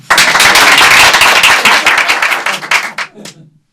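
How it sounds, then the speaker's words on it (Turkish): A crowd claps as a groom steps forward, a brisk burst of sharp, crackling handclaps that starts at full strength, thins out and trails off to a few scattered claps before stopping. "Alkışlarla."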